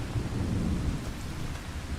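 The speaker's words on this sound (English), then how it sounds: "I heard thunder." Steady rain and rolling thunder from a storm in the video game Farming Simulator 25, a continuous loud low rumble with dense rain hiss throughout and no talking.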